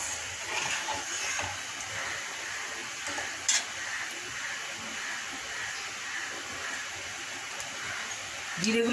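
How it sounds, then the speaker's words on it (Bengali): Cumin seeds sizzle in hot oil in a wok, giving a soft, steady crackling hiss with a brief clatter partway through, heard at low level. "কড়াই আবার তেল দিয়ে জিরে ফোড়নও দিয়ে দিয়েছি"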